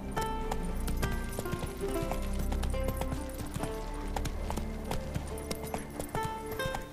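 Horse hooves clip-clop steadily in The Witcher 3 as a mount trots around a house and gate, layered over in-game music and ambience, fairly loud and continuous.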